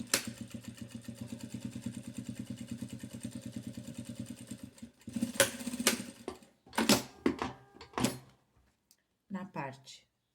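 A sewing machine stitching the seam of a knit hat runs steadily for about five seconds with a fast, even rattle, then stops; someone speaks afterward in short phrases.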